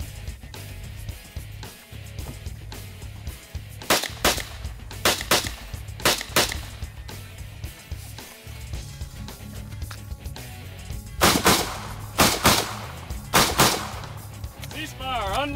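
Shots from a modern sporting rifle on a shooting range stage, fired as sharp single cracks in irregular bursts with pauses between them, loud and close over a low background hum.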